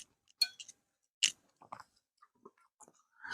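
Someone chews pecal at close range: several crisp, crunchy bites come in short uneven bursts separated by quiet pauses. No one speaks.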